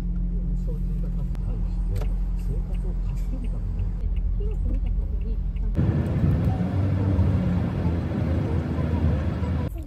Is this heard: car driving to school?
yes